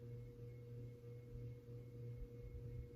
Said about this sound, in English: I just realized I have my ceiling fan on,